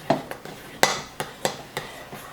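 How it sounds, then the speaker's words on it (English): A utensil stirs a coconut oil soap mixture in a pot, giving a handful of sharp scraping clinks spaced unevenly, close and fairly quiet with no talking. "So I'm gonna go ahead and give it a quick stir."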